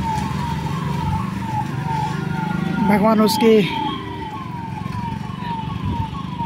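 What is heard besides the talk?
ambulance siren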